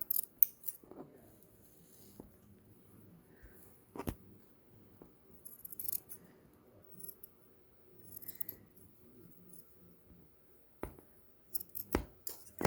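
Fabric shears trim the seam allowance on a tote bag with faint, sparse snips and soft clicks over quiet room tone.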